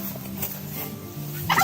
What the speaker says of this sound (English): There's one turkey.